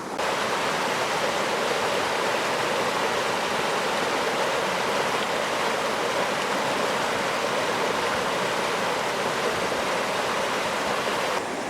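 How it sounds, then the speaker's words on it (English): Several small waterfalls in Pendleton, Indiana, pour in a continuous, even rush of falling water, steady and fairly close with no speech over it. "Multiple little waterfalls."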